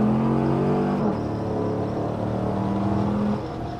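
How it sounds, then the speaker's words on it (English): An LT1-swapped 1986 Chevrolet C10 squarebody truck accelerating, a steady engine drone rising in pitch, dropping once as it shifts, then climbing again before easing off. "the LT1 is known to make, you know, upwards of 400 horsepower, and it's plenty of power for this truck"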